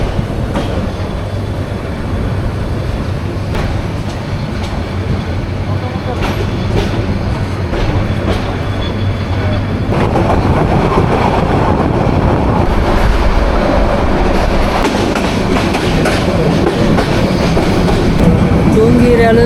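The Parjatak Express 816 runs from Dhaka toward Cox's Bazar, heard from inside the train as a loud, continuous rumble with rhythmic wheel clatter on the rails.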